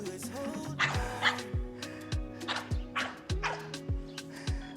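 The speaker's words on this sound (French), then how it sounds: "Encore un petit chien qui passe." A small dog yaps in a quick repeated series of sharp, fairly close barks, around eight in under five seconds, with faint background sound between them and no talking.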